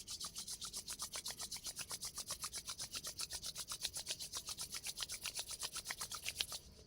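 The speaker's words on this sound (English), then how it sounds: "Rub your hands." Two hands rub briskly together in a fast, even back-and-forth rhythm, giving a soft, close swishing friction that repeats steadily for several seconds in a quiet room.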